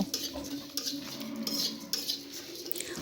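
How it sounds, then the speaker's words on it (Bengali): Fennel seeds dry-fry in a pan while being stirred, giving light scraping and clinking strokes in an uneven rhythm over a faint background hum, with no talk. "এবার আমরা মৌরিটা ভেজে নিব"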